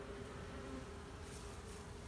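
Honey bees buzz in a dense, steady drone from an open hive, close and continuous with no pauses and no voices.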